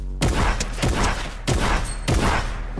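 Gunfire in the video game Fortnite: loud bursts of rapid shots arriving in several separate volleys, each opening with a sharp crack and tailing off, with no talking.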